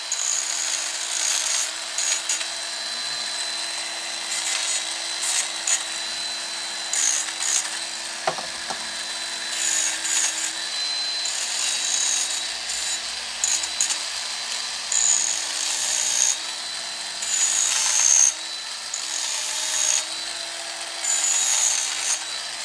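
A rotary blade tool smoothing the sharp edges of bonsai deadwood on a plum or yew tree, a continuous high grinding whir with short bursts and pauses as the blade touches the wood.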